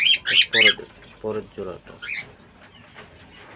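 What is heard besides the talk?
cockatiels calling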